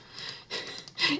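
Snoring from a character in the game Nancy Drew: Message in a Haunted Mansion, heard as a few short, faint, breathy rasping bursts in quick succession.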